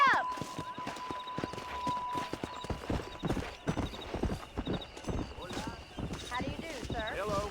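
A horse gallops while being ridden in the video game Red Dead Redemption, its hooves beating a quick, steady rhythm up close, with brief neighs and a voice speaking over the riding.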